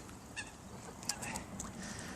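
Geese gathering for beef fat give several short honks at close to middle distance over a steady background murmur, with no talk.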